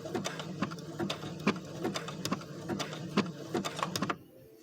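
A Brother sewing machine stitching embroidery runs in quick, regular needle strokes, around two per second, close and fairly quiet, then stops near the end; no talking.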